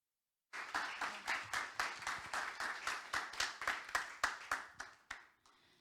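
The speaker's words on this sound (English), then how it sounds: "I don't know if you can hear our applause, but it is in the room." Enthusiastic applause from a conference audience in a room, a steady run of hand clapping that starts abruptly and swells in pulses for about five seconds before thinning to a few last claps.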